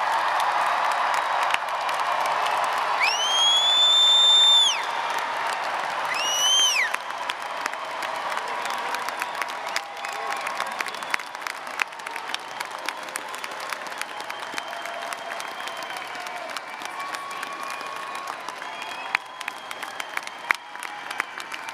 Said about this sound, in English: give a round of applause in appreciation to everyone who's guided you